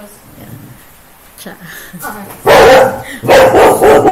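A territorial female dog lets out two loud, close bursts of barking after a quieter stretch where a person speaks briefly.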